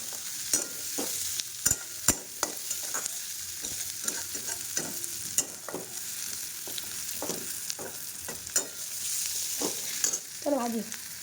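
Chopped onions and spices fry in a pan on a gas stove, giving a steady near sizzle broken by sharp scraping and clattering stir strokes, with no talking.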